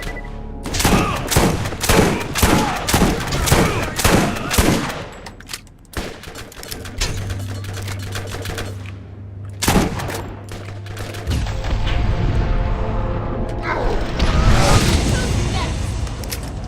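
Borderlands shotgun gunfire, a rapid rhythmic series of loud blasts in the first several seconds, then scattered heavier shots and booms over a low hum, with a voice talking at times.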